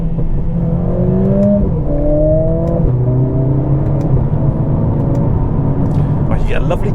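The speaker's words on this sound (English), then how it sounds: "You get a lovely grunt from every gear change as well." A 2022 Mercedes CLA45 engine revs hard through paddle-shifted gear changes, its harmonic pitch sweeping upward and dropping at each of several quick shifts, with a loud, close, steady drone and faint crackles near the end.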